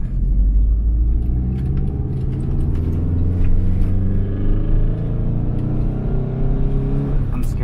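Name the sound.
Subaru Impreza GC8 RS Ti car driving on test drive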